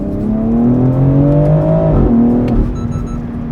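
A BMW X3 M in manual mode with Sport Plus engaged revs hard, its exhaust note climbing loud and close for two seconds before dropping off, then settling into a lower rumble with a faint crackle.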